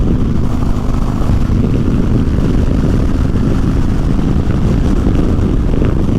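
A motorcycle engine droning loud and steady while riding, held at speed in one gear with continuous roar and wind buffeting, close to the rider, no talking.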